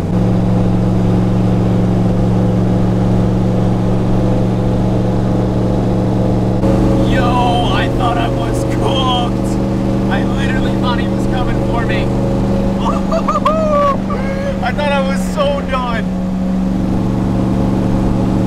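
An LS-swapped turbo Ford Mustang without lights drives home from the dyno, its engine holding a steady loud droning hum from inside the cabin while someone talks intermittently over it.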